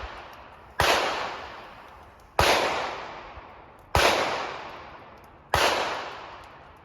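A rifle zeroed for 5.56 fires four sharp, loud shots at roughly even intervals, each a crisp crack with a short decaying tail, alone with no talk.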